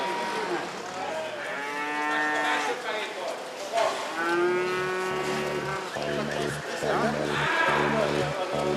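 Dairy cows on a large farm of more than 3,000 animals moo in long, drawn-out calls nearby, several in succession, with someone talking over them and machinery droning behind.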